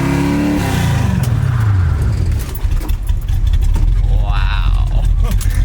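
A 1967 Ford Mustang with manual brakes and large S550 brakes is driving. Its engine is loud and close and sweeps down as the car slows, then settles into a steady rumble.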